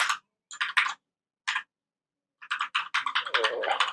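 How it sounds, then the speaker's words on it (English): Computer keyboard typing in short clattering bursts with pauses, then a longer quick run of keystrokes, close and clear, while entering Swift code. "So let's go ahead and type Blessing dot name"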